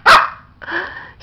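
A small dog gives a sharp close bark, then a second drawn-out yelping bark, with a brief clipped sound at the end, loud and near in a quiet room.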